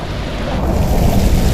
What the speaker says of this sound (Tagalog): Kaya okay lang mabasa sa ulan. Sarap ng ulan.